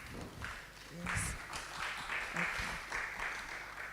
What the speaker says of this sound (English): we need to clap for them